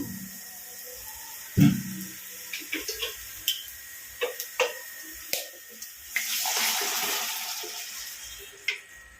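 Water is poured into egg curry masala frying in oil in a pan, starting with scattered clicks and taps before a short rushing splash near the end, with no talk.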